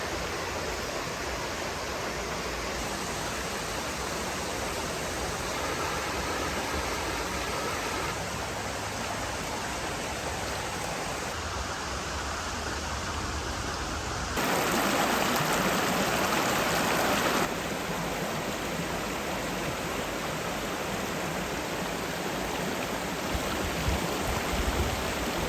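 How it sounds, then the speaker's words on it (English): A stream flowing beside a campsite: steady broadband rushing and babbling water, close and continuous, swelling louder for a few seconds midway, with no talking. "So we have this beautiful stream on the back side of our campsite today, and Maggie is absolutely loving getting in"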